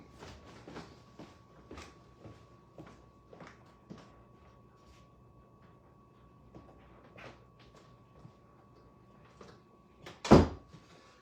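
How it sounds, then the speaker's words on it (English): A door shuts with one loud, sharp bang near the end, heard up close in a home kitchen during lunch prep. Faint irregular knocks and rustles come before it, and no one speaks. "Close that door, the laundry's going."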